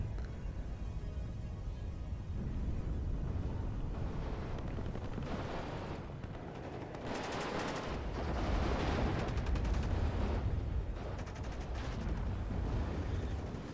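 Battle sounds from the WARNO strategy game as an SMG fires on advancing BTR vehicles, a continuous low rumble of distant gunfire and explosions that swells and fades throughout.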